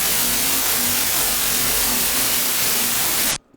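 White noise run through a comb filter for electricity sound design: a loud, bright, steady hiss with faint tonal, metallic resonant bands running through it. It holds for about three seconds and then cuts off abruptly.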